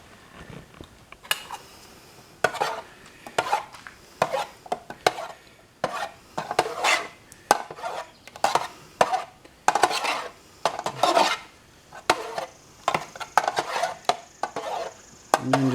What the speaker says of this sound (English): And then just stir it up so it's all mixed good.